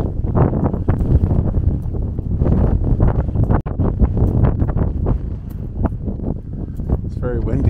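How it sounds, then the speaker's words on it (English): Heavy, constant wind buffeting a microphone with low rumbling gusts at Lake Rousseau Dam, and people talking underneath it throughout. "It's very windy here."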